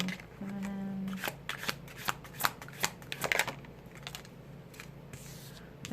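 Tarot cards being shuffled by hand, a rapid run of riffling flicks and soft papery slaps, close and fairly quiet, with a brief low hum near the start and no talk.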